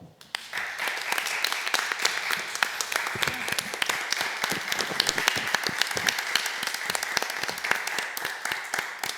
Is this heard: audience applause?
yes